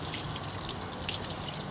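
Running water from a tap while rinsing during cornhole board building, a steady hissing gush without pause, moderately loud and alone.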